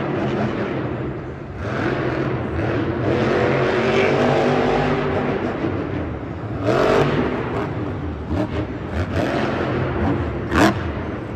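A monster truck engine roars loudly during a freestyle run and jump at Monster Jam in Ford Field, Detroit, with sustained throttle, surging revs and a sharp burst near the end, close and continuous.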